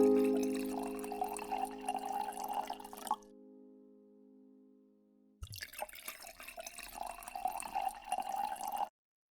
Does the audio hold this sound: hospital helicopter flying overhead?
no